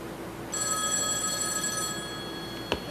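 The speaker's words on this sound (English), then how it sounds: "The phone rings in the house." A telephone in a house rings with a steady electronic bell tone that starts abruptly, holds for about two seconds, then stops with a soft click, heard faintly at moderate distance.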